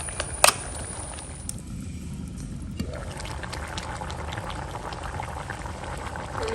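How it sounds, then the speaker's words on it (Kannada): Mud crab curry boils in a pot, a steady, close bubbling that runs unbroken throughout, with a brief metallic clink near the start. "ಒಳ್ಳೆ ಕುದಿ ಬರ್ತಾ ಉಂಟು."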